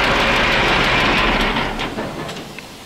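A KamAZ truck diesel engine starts for the first time after a piston replacement, with a dense, loud rumbling roar that holds steady and then eases slightly.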